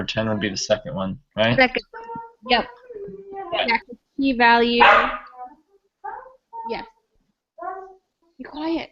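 A dog barks a few short, sharp times in a room, interleaved with people talking nearby.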